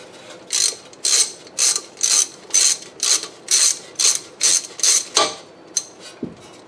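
A ratchet wrench backs out a 10 mm sensor bolt on a 2001 Lexus IS300, giving about a dozen evenly spaced, close clicking bursts that thin out into a few slower clicks near the end.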